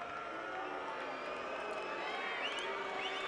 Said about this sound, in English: And the boos coming from the crowd